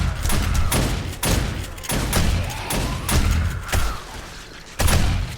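Automated base turrets firing at zombies in 7 Days to Die, sharp repeated gunshot volleys in quick irregular bursts, loud and continuous with no voices.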